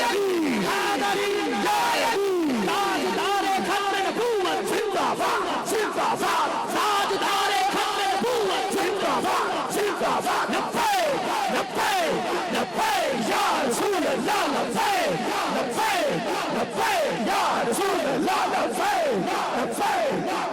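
At a naat gathering, a crowd chants the slogan "Haidari" over and over in loud, rhythmic unison, continuous and energetic throughout.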